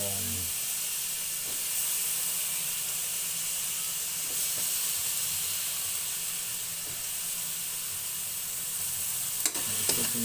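Okra and eggplant sizzle steadily in a pan of squid and vegetables cooked in coconut milk, with a constant bright frying hiss and occasional soft stirring knocks, close and with no talk.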